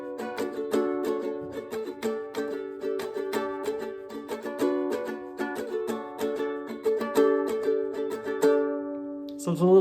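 Ukulele strummed through the chords of a song in a higher-pitched voicing: bright, rhythmic strums at moderate volume with a steady pulse and no voice.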